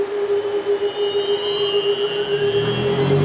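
A machining spindle from ABS Machine of Ontario, Canada spins at its full 4,500 RPM. It gives a steady, piercing high whine with a lower hum that builds near the end, with no voices.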